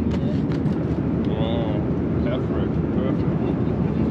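Airplane cabin in flight, a loud steady engine and air roar filling the background throughout while a person talks over it.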